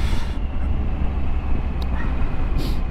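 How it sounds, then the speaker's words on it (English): Heard from inside a Triumph Tiger Sport car on a Pembrokeshire road, a tractor hauling a muck spreader ahead produces a steady low rumble blended with road and cabin noise, with a few faint clicks. "oh, it's a tractor, look, with a muck spreader on it or something"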